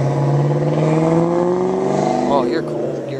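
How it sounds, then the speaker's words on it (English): A car with a loud exhaust revs close by, its engine tone rising in a sustained, throaty pitch before easing off, with speech mixed in over it. "Your exhaust sounds louder than whatever."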